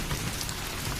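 Heavy rain in a horror cartoon pours as a dense, even wash of drops, loud and continuous for a brief moment without any voices.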